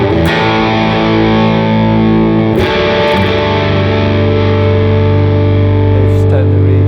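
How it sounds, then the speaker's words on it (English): Electric guitar through stacked overdrive pedals on a Line 6 Helix Stadium, bridge pickup, thick distorted chords sustaining with a couple of fresh strikes, loud and close. "if I just flip to bridge pickup, you can really hear the drives come through. So if I start stacking up the drives"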